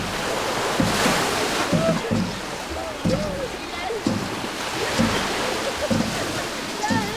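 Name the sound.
people splashing in the sea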